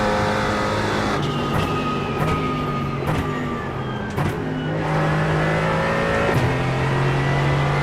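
A GT4 race car's engine in iRacing at Bathurst drones loudly and steadily, with repeated sharp gear-shift dips and rising revs through the corners.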